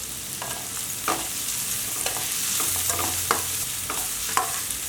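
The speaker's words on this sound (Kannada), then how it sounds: "ಈರುಳ್ಳಿ ಸ್ವಲ್ಪ ಫ್ರೈ ಆಗಲಿ" Onions, spring onion and chopped green chillies stir-fried in a pan for street-style veg fried rice, a steady sizzle broken by regular clinks and scrapes of the spatula, close and without talk.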